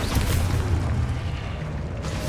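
An Expulso spell explosion in a modded Hogwarts video game: a loud, heavy boom with a rumbling low-end tail that fades over a couple of seconds, no voices.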